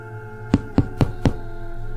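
Four sharp knocks on a door come in an even, quick rhythm, loud and close over a low steady hum, with no voices.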